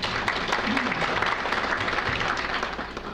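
A hall full of guests at an Ahmadiyya Muslim community function applauds a head table guest, a dense, even wash of clapping that holds steady from start to finish.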